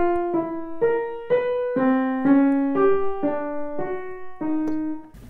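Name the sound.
twelve-tone (dodecaphonic) atonal music excerpt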